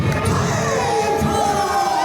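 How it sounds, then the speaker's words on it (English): A wrestling crowd in Waukesha roars loudly and continuously for Iron Mike Curkov at a GLCW event, with dense cheering and shouts that fill the space without pause. "Listen to that reaction from that crowd for Iron Mike."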